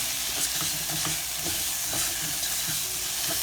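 Dry toasted rice and spices are stirred around a hot pan, giving a steady soft sizzle with gentle scraping strokes repeating every half second or so, close and fairly quiet with no talking.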